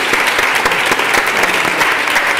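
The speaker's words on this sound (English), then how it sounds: "A round of applause." Steady, dense applause from a forum audience for a panel of speakers, a continuous wash of clapping hands without pauses or voices.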